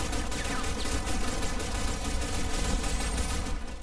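Sustained gunfire from the Warface video game pours out in a loud, unbroken automatic stream, shots blurring into a continuous rattling barrage for the whole stretch.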